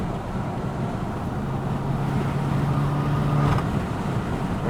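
Loud exhaust drone from a BMW M5 cruising on a highway, a steady low rumble with rising engine tone under light throttle and road and wind noise, with no distinct pops standing out.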